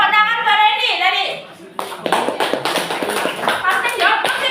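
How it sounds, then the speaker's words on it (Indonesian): Schoolchildren in an Indonesian classroom break into a burst of lively, uneven hand clapping after some brief talk, the applause continuing close by for a few seconds. "Tepuk tangan Mbak Randy tadi."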